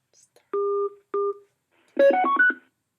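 Two-note telephone keypad tones sound twice on a conference call line, each a steady beep under half a second, followed by a rapid run of several stepping tones, loud and close with no talk over them.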